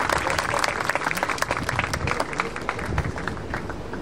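An audience at a scout house opening ceremony claps steadily and warmly as a speaker is welcomed to the stage, a full, continuous wash of applause with individual claps standing out.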